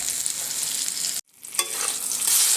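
Brinjal slices sizzle and crackle steadily in hot oil in a pan, a close, continuous frying hiss broken by a brief silent gap before resuming, with a small stir-like click partway through.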